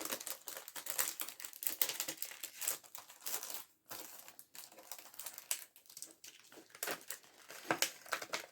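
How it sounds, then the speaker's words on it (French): Rapid scratchy rustling and crunching in bursts, like a cat digging in gritty litter, close by with short pauses between flurries. "si ça fait du bruit, vous vous inquiétez pas. C'est le chat qui est dans sa litière."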